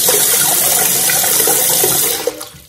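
Water blasts loudly through a toilet tank fill valve held under an upturned glass, a close, harsh rushing spray that holds steady and then cuts off abruptly near the end.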